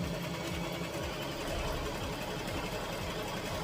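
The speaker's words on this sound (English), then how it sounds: "I'm gonna keep on sewing." A sewing machine stitches a tutu outfit, running with a steady, fast mechanical whir and needle chatter, fairly quiet and unbroken throughout, with no voices.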